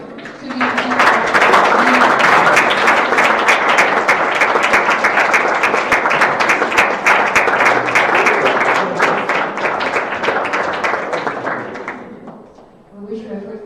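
A crowd applauds loudly and steadily for about twelve seconds, the clapping dense and sustained before tapering off, with a few voices at the end.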